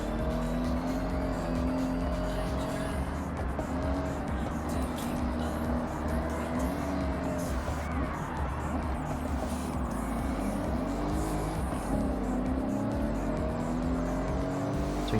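Corvette engines in the Forza Horizon 6 racing game, a steady drone of engine roar with tire noise running throughout at a constant loud level, with no break.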